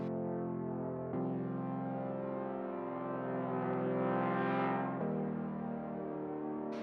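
A synth tone shaped by a heavy pitch envelope from the Waves G37 plugin, a sustained buzzy chord that bends and wavers in pitch, swelling over several seconds with abrupt shifts partway through, heard alone.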